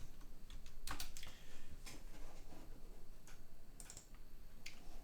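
Quiet, irregular clicking of fingers typing on a computer keyboard while programming, short bursts of keystrokes with small pauses between them.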